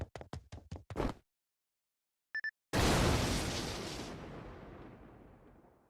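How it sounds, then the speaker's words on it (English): A loud explosion in Fate Grand Order bursts suddenly after a brief electronic chime, with a dense roar that slowly decays over several seconds, preceded by a short run of rapid rhythmic hits. "Explosion."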